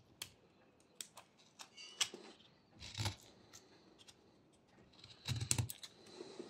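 A knife whittles a small wooden fish, making stop cuts by pressing the blade into the wood, heard as scattered quiet clicks and short scraping cuts with a few louder bursts, close and without talk.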